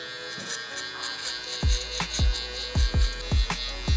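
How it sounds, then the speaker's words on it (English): A Stylecraft Flex hair trimmer buzzes steadily while cutting through hair, with a series of soft bumps and pulses as the blade passes repeatedly through the hair, close and moderately loud. "As y'all can see, this trimmer is just eating through this hair."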